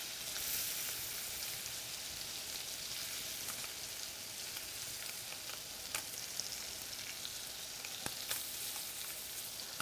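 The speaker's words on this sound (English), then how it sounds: "the butter is going to foam, and then it's going to brown" Butter foaming and browning in a frying pan while bucatini puttanesca is made, a close, steady crackling sizzle with scattered sharp pops throughout, no voices.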